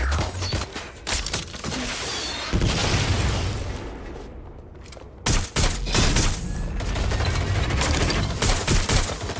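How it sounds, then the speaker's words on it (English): Heavy gunfire in the video game Watch Dogs Legion: dense bursts and repeated shots with booms, loud and continuous, breaking off briefly midway before the volleys resume. "Taking fire!"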